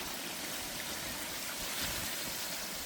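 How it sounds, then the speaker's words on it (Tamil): Water poured into chicken kurma cooking in a pot, a steady broadband rushing splash without pause, moderately loud and close, with no voices. "இந்த நேரத்தில் தேவையான அளவு தண்ணி சேர்த்துக்கிறோம்"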